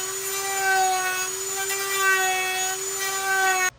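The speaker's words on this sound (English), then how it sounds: "Once you're done Dremeling to all your trim lines, it's time to sand it down" Dremel rotary tool trimming a plastic Stormtrooper costume ab piece: a steady high-pitched whine held at a constant pitch, close and loud, cutting off abruptly at the end.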